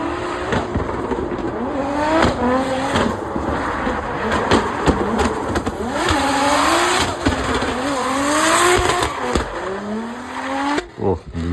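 An older BMW M3 drifts at the Qatar Racing Club drift race, its engine revving hard in rising and falling sweeps with screeching tires. The car sounds close and loud, with faint voices in the background.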